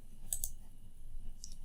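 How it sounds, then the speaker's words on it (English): A computer mouse clicks on a library website, a couple of soft, quick clicks close by with another faint tick a moment later, over quiet room tone. "clicking on our databases icon"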